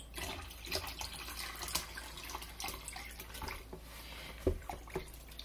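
Avocado-based natural dye liquid is poured slowly through a shirt into a bowl, making a steady, soft trickling and splashing that runs throughout, with a brief louder splash near the end.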